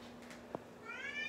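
A cat gives a single short meow, faint and close, rising at the end, with a quiet background and a small tap just before it.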